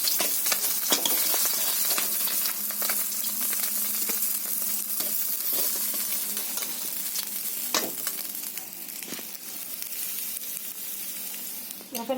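Bhola and phesa fish fry in hot oil in a kadai with a continuous, bright sizzle, broken now and then by sharper clinks and scrapes of stirring, with no voices.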